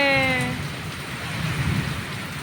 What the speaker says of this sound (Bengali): বৃষ্টি নেমেছে আমাদের এখানে,